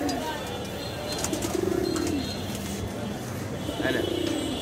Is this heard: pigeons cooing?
yes